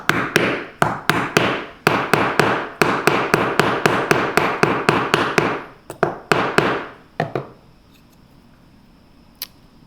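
Rapid, sharp hammer blows dome a metal washer, about twenty ringing metallic strikes in quick succession before they stop and the space falls quiet apart from one last faint tap.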